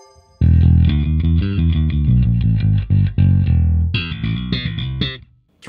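Bass guitar played through a Geddy Lee signature distortion pedal, a loud gritty riff of repeated notes with a brief break, then a brighter, higher run of notes before it cuts off.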